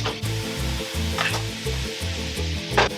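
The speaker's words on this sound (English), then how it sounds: "Next, I'm gonna add my chopped fresh tomato." Chopped fresh tomato dropped into a hot pot of turkey or chicken tortilla soup, producing a few bursts of sizzle and splatter over a steady low pulsing background, no voices.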